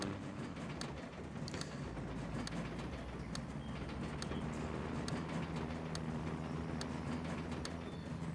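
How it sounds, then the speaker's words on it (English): A train rolling down the tracks in the Farming Simulator 25 video game, a steady low rumble with regular sharp clicks of wheels over rail joints, continuous and moderately loud. "Sounds like a train going down the tracks."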